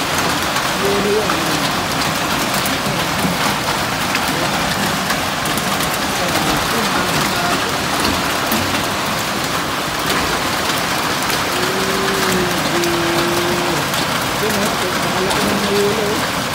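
Heavy rain mixed with hail pours down in Taif, Saudi Arabia, a loud, unbroken hiss of drops on surfaces, with faint voices briefly audible beneath it.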